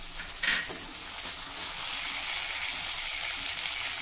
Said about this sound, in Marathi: कांदा थोडा मऊ होईपर्यंत आपल्याला हे परतवून घ्यायचं आहे